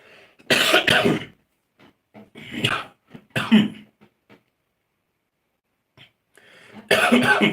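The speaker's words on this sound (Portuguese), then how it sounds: "Tem hora que a tosse vem e é complicado." A person coughs repeatedly in short, harsh bursts separated by quiet pauses, close and fairly loud.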